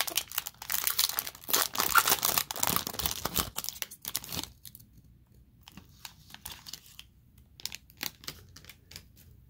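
Foil wrapper of a 2019 Contenders Optic NFL football hobby pack being torn and crinkled open, loud busy rustling for several seconds, then quieter scattered crinkles and light clicks, close to the microphone with no talk.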